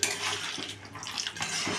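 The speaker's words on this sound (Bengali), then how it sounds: "এখন এবার জলটা দিয়ে দেবো।" Water poured into a metal pan of chicken on the stove, a steady splashing rush with metallic clinks from the pan, close and continuous with no talking.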